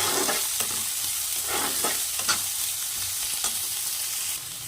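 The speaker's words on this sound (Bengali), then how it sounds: "এখন এর মধ্যে দিয়ে দেবো আদা রসুনের পেস্ট আর দিয়ে দেবো কাঁচা লঙ্কা কুচি এখন এটা একটু নেড়ে করে ভেজে নিতে হবে" Ginger garlic paste and chopped green chilies frying in a pan for chicken momos, a constant close sizzle broken by repeated scraping strokes of a spatula stirring the mixture.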